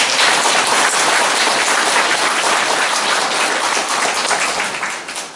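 An audience at a residents' union meeting applauds vigorously, a loud continuous roar of many hands that fades slightly near the end.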